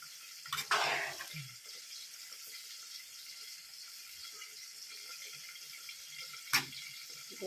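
Korat-style rice noodles are stir-fried in a pan, with a faint steady sizzle and two brief scraping clatters of the utensil, one near the start and one near the end.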